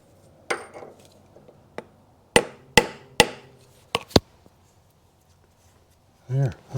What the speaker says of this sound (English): And with a plastic hammer, just kind of tap it in.